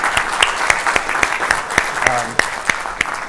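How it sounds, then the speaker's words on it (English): Audience applause at the end of a talk on particle collisions and AI: a steady patter of many hands, fairly close, with sharper individual claps popping out and faint voices beneath. "So I wanted to have one more round of applause for everybody here."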